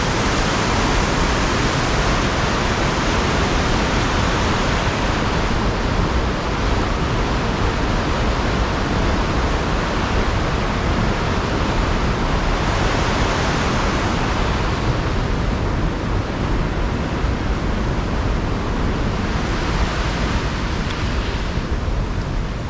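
High, fast river water rushes steadily just below a dam on a winter fishing outing, a dense, unbroken roar with faint wind buffeting the microphone throughout.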